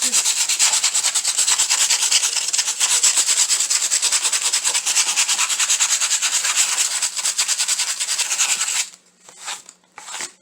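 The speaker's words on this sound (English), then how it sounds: "Just sand it down to where it's smooth now" Steady rasping sandpaper strokes smoothing a Dollar Tree craft piece for a Valentine's Day decor project, continuous and close for most of the clip, then stopping into a few short separate rubs at the end.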